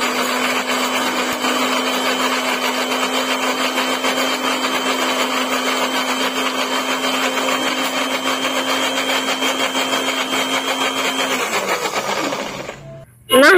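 A blender whirs steadily for about eleven seconds, grinding pepper and spices with water or oil into a paste, a loud, even motor hum that then winds down and stops.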